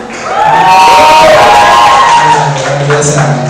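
A large audience at an Islamic fair talk show and closing ceremony cheers and shouts loudly, a dense roar of voices swelling and holding for several seconds.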